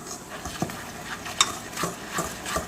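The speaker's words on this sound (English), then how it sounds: "And just going to give this a stir." A spoon stirring kosher salt into a wet zucchini bread mixture in a bowl, several soft scraping strokes and light clinks at a close, even pace.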